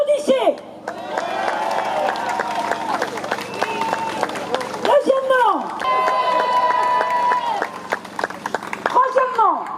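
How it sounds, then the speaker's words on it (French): A large crowd at a French trade union rally in September 2025 applauds, cheers and chants in a loud, sustained swell, with shouting voices and whistles rising and falling over about ten seconds. "Applaudissez!"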